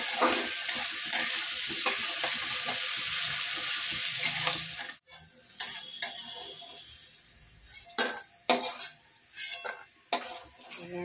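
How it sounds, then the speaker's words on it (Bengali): Green beans sizzle steadily in hot oil with salt for about five seconds. Then the frying drops away into intermittent stirring scrapes and clinks of a utensil against the pan. "বিনসটা তেলে দিয়ে দিয়েছি, এর ভিতরে একটু লবণ দিয়ে দেবো, অল্প একটু।"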